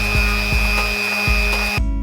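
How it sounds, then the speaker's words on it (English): A power sander whines steadily over carved wooden Japanese kanji calligraphy, close and loud, with a faint rhythmic thump about every quarter second before the motor cuts off abruptly near the end. "once it's all done, I'm gonna give it a quick sand"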